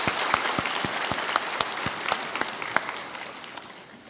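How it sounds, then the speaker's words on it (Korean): A church congregation at a special autumn early-morning revival service claps in a round of encouraging applause, with distinct individual claps standing out over a dense, moderately loud wash of hands that slowly fades. "서로에게 한번 격려의 박수 한번 보내도록 하겠습니다"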